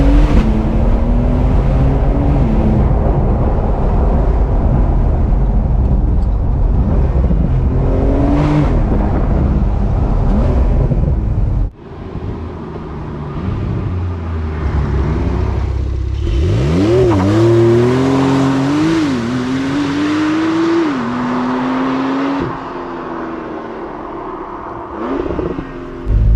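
Porsche 911 992 Carrera with a QuickSilver exhaust, in Sport mode a couple of gears down, droning loud and steady with engine pitch rising and falling through revs and shifts, a brief cut midway, then repeated climbing pulls.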